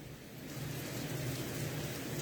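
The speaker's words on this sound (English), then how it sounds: "It's raining outside." Rain falls outside as a steady, dense wash of noise that holds an even level throughout, with no voices or distinct drops standing out.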